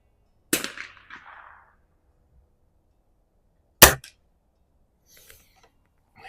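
Two sharp, close spring-piston air rifle shots, from a 1983 Beeman R8 and a 2023 Weihrauch HW50S, several seconds apart, each a crisp crack with a short metallic ring, followed by faint handling clicks.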